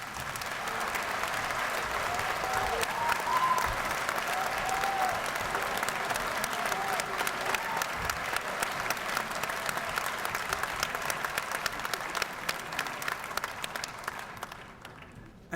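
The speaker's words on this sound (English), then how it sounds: "I think I would be acting out of character if I didn't ask you to clap again" Audience applause after South Africa's final election results are declared, sustained clapping from a large hall crowd that holds steady and then thins out toward the end.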